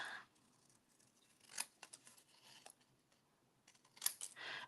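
Scissors snipping by hand through a paper stamped image, a few quiet crisp cuts spaced out over several seconds, close and faint with no talking.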